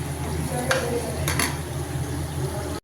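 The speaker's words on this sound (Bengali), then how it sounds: "তো পেঁয়াজটা ভালোভাবে তেল দিয়ে একটু ভাজে নেওয়া হচ্ছে।" Onions frying in oil for biryani in a pan, a steady dense sizzle with a few metal scrapes of stirring, close and fairly loud, with no speech.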